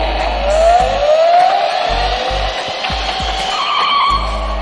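A voice-controlled RC car spins out on a hard surface with a sustained tire squeal and a rising whine that stays loud and close. Faint knocks and skids run through it, and no one speaks.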